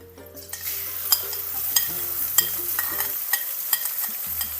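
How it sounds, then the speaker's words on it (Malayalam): Crushed shallots and garlic tipped into hot coconut oil for a Kerala banana-peel and cowpea thoran sizzle steadily, with regular light spatula taps against the pan. "ഈ വെളിച്ചെണ്ണയിലേക്ക് നമുക്ക് ചതച്ച് വെച്ചിട്ടുള്ള ഉള്ളി ഇട്ട് കൊടുക്കാം"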